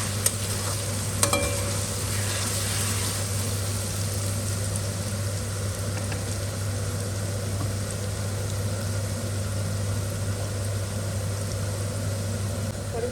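Garlic ginger paste sizzles and fries steadily in a hot pan, a continuous crackling hiss with a low background hum, no talking.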